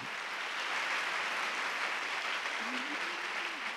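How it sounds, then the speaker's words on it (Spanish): An audience at an in-person conference on building a personal brand applauds, a steady, even patter of many hands that stays fairly soft and distant throughout. "Un aplauso muy fuerte para todos"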